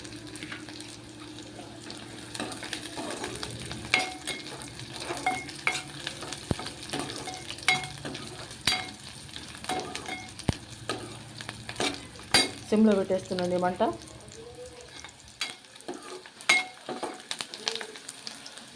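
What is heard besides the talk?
onions frying in a pan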